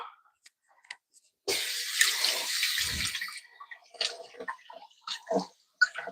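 Cilantro rinsed under a running kitchen tap, a close hiss of flowing water for about two seconds, then scattered drips and handling clicks with faint talk nearby.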